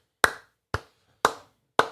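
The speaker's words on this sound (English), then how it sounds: "Slow clap for Samuel" Four slow, evenly spaced hand claps, each a sharp close smack with a short decay, about half a second apart, with silence between and no talking.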